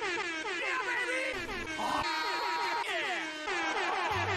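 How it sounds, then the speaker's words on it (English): A blaring MLG air horn sound effect repeats in rapid, layered bursts, loud and distorted, with no talking. "After about the 20th unironic MLG air horn sound effect"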